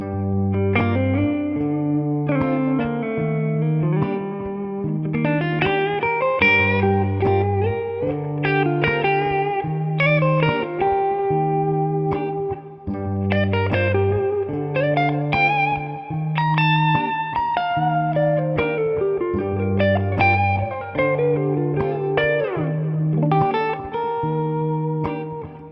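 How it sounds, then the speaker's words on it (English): A clean Gibson Custom '59 Reissue electric guitar on the neck pickup plays a bright, bell-like picked melody over sustained bass notes, ringing steadily with light reverb, no voices. "the neck has a really nice kind of bell-like quality to it"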